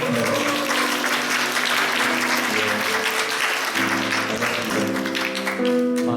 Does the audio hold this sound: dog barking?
no